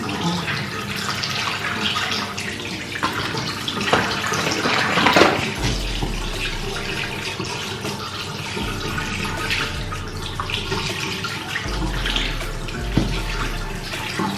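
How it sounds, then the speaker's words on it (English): A tap runs steadily into a sink while someone washes their face, a continuous close rush of water with occasional louder splashes from hands and face, with no talking. "Wash my face now."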